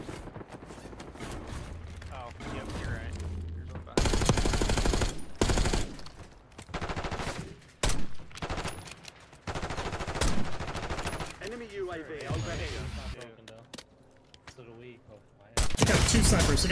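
Gunfire from sniper rifles in the Call of Duty Black Ops 6 video game, with loud sharp shots and rapid bursts repeating across the stretch, mixed with game effects and a player talking.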